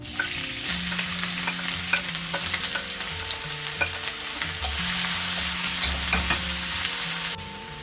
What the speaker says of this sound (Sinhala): ඊට පස්සේ මම මේකට දාගන්නවා පොඩියට කපාගත්තු ඉඟුරු